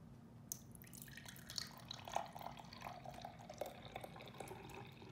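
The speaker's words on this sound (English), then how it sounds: "Let's pour it in the glass cup." Ninja Melk drink poured into a glass cup, a faint, steady trickling and dripping of liquid heard on its own for a few seconds.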